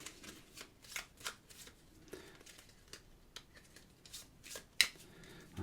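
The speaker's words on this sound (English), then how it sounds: "Give the cards a good shuffle." A deck of cards for the board game One for Sorrow being shuffled by hand, a run of quick riffling flutters and soft slaps, close and fairly quiet, ending in one sharper snap of the cards.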